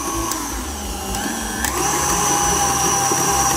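An electric mixer whips mascarpone with pistachio cream for a tiramisu, its steady whining motor running close and loud, then stepping up to a higher speed partway through with a few faint clicks.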